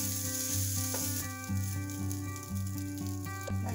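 Cooked rice is stirred into sautéed beetroot in a pan for Tamil-style beetroot rice, a steady close sizzle broken by the scrape and clatter of the spoon, with no talk.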